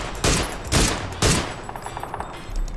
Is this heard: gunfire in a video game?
yes